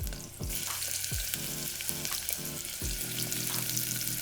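Onions sizzle and spit in a smoking-hot pan, a loud, steady frying hiss with several sharp bursts as pieces hit the oil, close and continuous with no voices.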